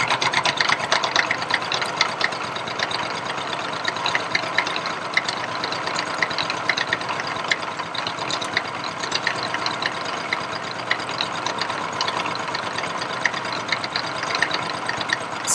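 A milling machine cutting metal while squaring a vice stop, a steady dense grinding and whirring roar that runs continuously throughout, close and fairly loud with no talk.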